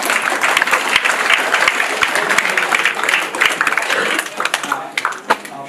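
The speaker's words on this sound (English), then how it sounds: "round of applause for Robin, please." Audience applause at a memorial gathering, a loud, dense round of clapping that fills the room before thinning toward the end, with a few scattered claps lingering.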